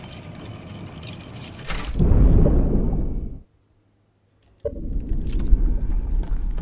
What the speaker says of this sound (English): That was the sound of the dam breaking in the real world.